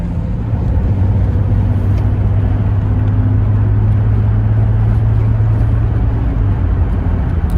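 A supercharged VR6 engine in a Mk3 Jetta drones steadily while cruising in a high gear, a constant low hum with a sustained tonal note, close and loud inside the cabin.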